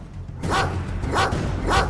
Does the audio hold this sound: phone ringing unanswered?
no